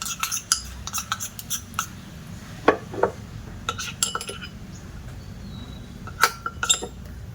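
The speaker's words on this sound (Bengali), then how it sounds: "এবার এই 3টে উপকরণ দিয়ে ভালো করে মিশিয়ে নেব।" Spoon clinking against a bowl while stirring a homemade face mask of gram flour and kitchen vegetable ingredients, with a steady run of light, close metallic taps and scrapes and no talking.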